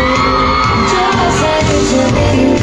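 An audience at an award and prize distribution ceremony at Doctors Academy in Bhakkar cheers and whoops loudly, a continuous burst of crowd noise with shouts.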